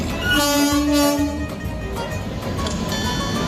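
Rajdhani Express pulling into platform 2 at a busy Indian station, a loud train horn blast sounding for about a second over steady rumbling rail noise and station bustle.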